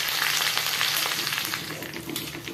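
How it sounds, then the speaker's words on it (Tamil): Green chilli, mustard seeds, urad dal, cumin and curry leaves sautéing in hot oil, a loud crackling sizzle with quick pops, close up and unbroken. "ஒரு பச்சை மிளகாய் போட்டு வதக்கிக்கலாம்"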